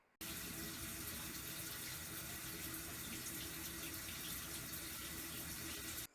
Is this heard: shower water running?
yes